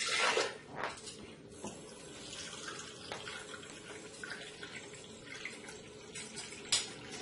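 Purified water pours and splashes into a measuring cup, a quiet running stream with a few brief louder gushes, no talking.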